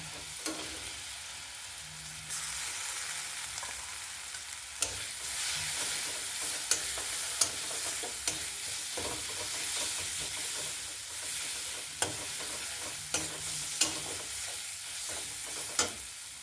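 Spice paste with ground sesame and coconut paste fries and is stirred in a pan for a pointed gourd curry, giving a steady close sizzle with scraping stirs and occasional clinks, no voices.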